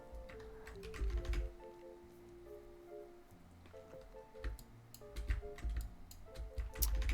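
Keys clatter on a computer keyboard in uneven bursts of typing, fairly close and soft, with a faint electronic tone running underneath.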